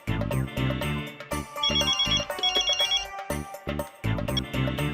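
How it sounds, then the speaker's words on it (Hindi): A telephone ring tone sounds on an outgoing call, loud and clear, in repeating melodic bursts with short gaps between them and no talking. "मैं तो उसको फोन लगा रहा हूँ, शायद जेठिया की उससे कोई बात हुई हो।"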